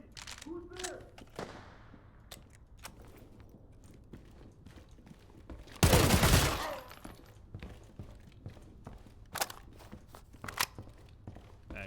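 Gunfire rings out in the video game Arena Breakout Infinite, with a dense burst of rapid shots in the middle between scattered footsteps, clicks and single sharp cracks.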